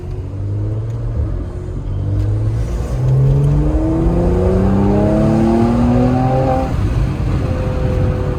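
A car engine revs hard in third gear toward 5,000 RPM, a loud, steady roar with rising harmonic sweeps that climb and settle over several seconds, close by with no talk.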